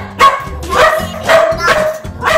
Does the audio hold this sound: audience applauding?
no